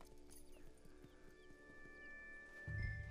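Horse hooves clip-clop at a steady walking rhythm in Red Dead Redemption 2, close and moderately loud over a faint in-game music bed, with a short neigh-like burst toward the end.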